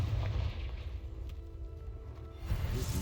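Confringo fire spell from Hogwarts Legacy blasting in a magic duel: a deep, rumbling explosive boom that lingers for a few seconds, then a second burst of crackling impact near the end.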